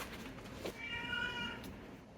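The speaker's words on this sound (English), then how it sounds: "My cat is going crazy." A house cat gives a single drawn-out meow indoors, faint and fairly distant, over a steady background hiss.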